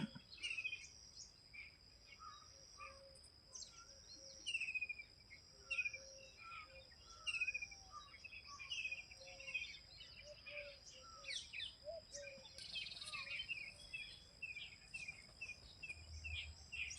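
Village birds chirp and call in scattered bursts on a quiet morning, faint and distant, over a steady background of insect trilling, with peafowl nearby.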